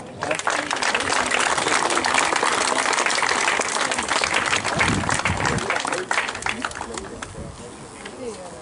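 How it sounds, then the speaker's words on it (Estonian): A crowd applauds the class winners at the Rapla town people's sprint race for Mosse cars, with sustained clapping that tapers off toward the end and voices mixed in beneath. "kõva aplaus ka Mosse liiga võitjatele, Mosse klassi võitjatele"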